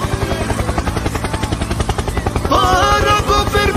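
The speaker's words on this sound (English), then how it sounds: "Helicopter, helicopter." Loud, close helicopter rotor thumping in a rapid steady pulse, with a rising engine whine joining in partway through.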